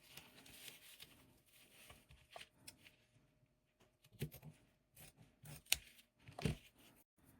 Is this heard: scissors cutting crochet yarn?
yes